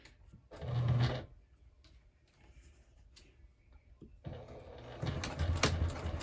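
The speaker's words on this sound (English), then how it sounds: "I'm sewing it down, basically sewing a box stitch" A sewing machine runs a box stitch through a crossbody bag in two bursts of rapid, close stitching: a short run, a quiet pause with light handling, then a longer steady run.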